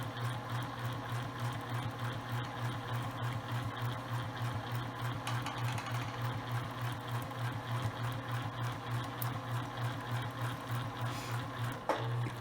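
A home sewing machine stitches cotton fabric for a face mask in a steady, rapid mechanical whir that runs close and continuous, with a brief clunk near the end.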